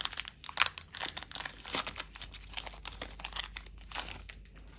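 A Pokémon card booster pack from a Pokébox is torn open and its foil wrapper crinkled close up, a series of sharp crackles and rips spread over several seconds, with no talking.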